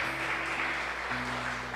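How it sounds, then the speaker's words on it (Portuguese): A church congregation claps steadily in a dense, continuous wash of applause with a low hum beneath, no voices standing out. "Aplauda ao Senhor."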